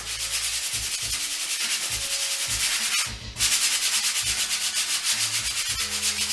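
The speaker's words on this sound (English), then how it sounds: "This is a 150 grit sandpaper. I'm going to sand it down." A wall patch is sanded by hand with 150 grit sandpaper: loud, continuous rhythmic scratchy rubbing strokes, close up, with one brief pause partway through before the strokes resume.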